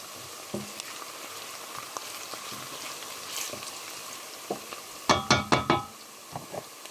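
Jollof rice is stirred in a hot pot, with a soft sizzle underneath scattered scraping knocks and a quick cluster of louder clanks from the spoon against the pot.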